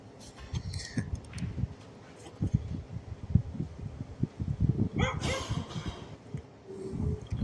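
A dog barks repeatedly nearby in short, uneven bursts, with someone talking intermittently over and between the barks.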